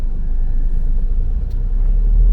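A car creeping through a traffic jam near a market in the Odesa region, with a steady low engine and road rumble close by, and no voices.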